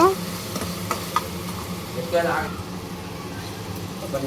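Ginger garlic paste frying with masala in a pan: a steady sizzle with scraping stirring strokes, partly under a person talking.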